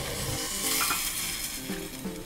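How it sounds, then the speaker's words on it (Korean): Diced tofu and other ingredients stir-fried in a pan, a close, continuous sizzle with faint scraping of stirring throughout. "이렇게 볶아요."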